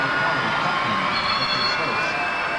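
Packed arena crowd at a 1990s indoor soccer game, a loud sustained roar of cheering and shouting filling the building, with a voice talking over the din.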